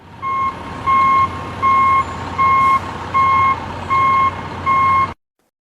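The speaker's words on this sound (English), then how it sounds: "excavator" An excavator sounds its reversing alarm, a loud, close, evenly spaced series of about seven electronic beeps over a low engine hum, ending abruptly.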